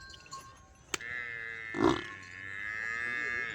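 A Nili-Ravi buffalo at a Punjab farm lets out a long, low, nasal moo that swells midway and holds steady. A sharp click sounds just before it, against faint background noise.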